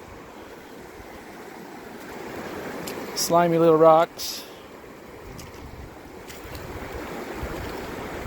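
The Carson River flows over slimy little rocks on open range, a steady rushing wash that runs through the whole stretch, briefly overlaid by a voice in the middle.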